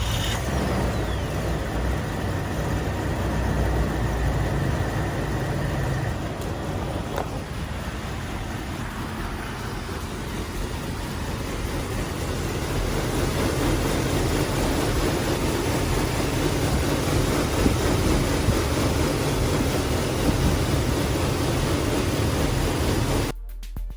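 A 1997–2001 Jeep Cherokee with the 4.0L engine drives on the road, giving a continuous broadband engine and road rumble heard from inside the vehicle. The noise swells slightly midway, then cuts off abruptly near the end, with no voices.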